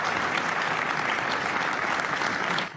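Applause fills the hall at an Arab parliamentary summit, a dense, even burst of many hands clapping at once that holds steady and cuts off abruptly near the end.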